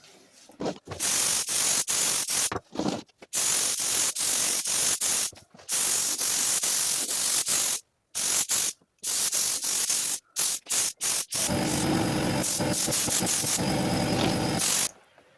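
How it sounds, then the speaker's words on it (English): Repeated bursts of aerosol mold release agent spraying, hissing loudly in short and long blasts separated by brief silences, ending in a longer rattly hiss. "Spraying on some PPA mold release agent"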